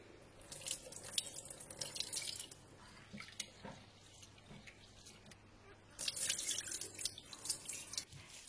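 Rice for sushi is rinsed under a running tap, a faint trickle and splash with soft dripping and brief louder gushes near the end, quiet and without speech.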